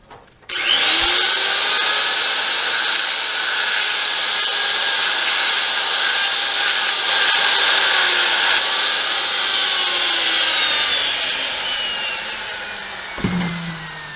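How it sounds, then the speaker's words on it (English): A die grinder bevels the inside of a steel steering shaft for a Foxbody solid shaft conversion, a loud, steady high-pitched whine running nearly the whole time, starting abruptly and easing slightly toward the end, with a brief clunk near the finish. "I'm just going to go inside of that with the die grinder."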